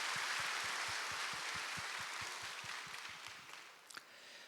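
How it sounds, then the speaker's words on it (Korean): A church congregation claps together at a Sunday morning service, a steady run of sharp, evenly spaced claps lasting several seconds and fading slightly toward the end. "하나님께 영광의 박수 올려드리겠습니다."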